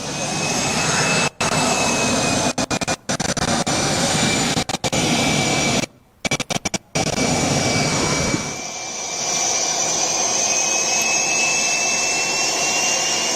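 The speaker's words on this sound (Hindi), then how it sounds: "तेजस मार्क 1A चौथी पीढ़ी का फाइटर जेट" A Tejas Mark 1A fourth-generation fighter jet roars loudly with a broad, continuous blast that briefly drops out, then settles into a quieter, airy hiss as it flies on.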